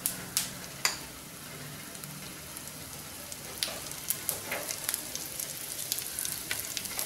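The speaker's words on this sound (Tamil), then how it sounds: "கொஞ்சம் பொரிஞ்ச பிறகு பெருங்காயம் போடுவோம்." Asafoetida frying in oil in a clay pot, a close, even crackling sizzle with sharp pops scattered throughout and no voices.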